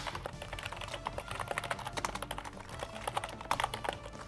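Rapid typing on a computer keyboard, dense irregular key clicks with occasional sharper strikes, close and steady throughout with no talk.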